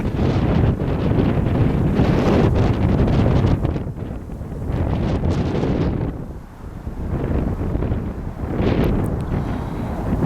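Strong wind buffets the microphone at North Pond on a windy December morning, a loud, continuous rushing roar that eases and swells, with no talk.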